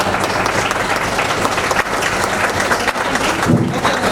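Children and the audience clap after a ceremonial lamp is lit at an Independence Day function in a school for blind students, a dense, continuous round of applause filling the room with a few faint voices beneath.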